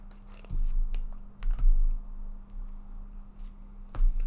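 Tarot cards are shuffled and drawn, giving a few soft, close snaps and papery clicks over a quiet room with a low steady hum.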